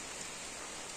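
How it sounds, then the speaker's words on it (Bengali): Steady rain falls in an even, dense hiss across the whole short stretch, close and loud, with no talk over it. "বৃষ্টি হচ্ছে, দেখতে পাচ্ছ, আওয়াজ শুনতে পাচ্ছ তোমরা"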